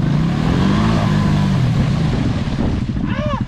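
A Honda Rancher 350 ATV stuck and revving hard with its wheels spinning, the engine surging and wavering loudly up close, ending in a brief high rising whine.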